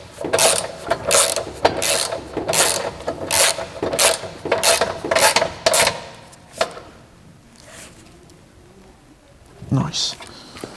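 A ratchet wrench clicks in repeated quick bursts while bolting brackets with plain washers onto an engine skid plate, loud and close, then stops and leaves a few brief knocks.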